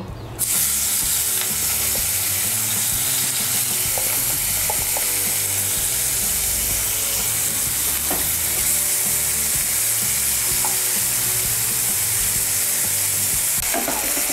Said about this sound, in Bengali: তেলটা আমার গরম হয়ে গিয়েছে, এর মধ্যে আমি নুন আর হলুদ দিয়ে মেখে চিংড়ি মাছগুলো ভেজে নেব।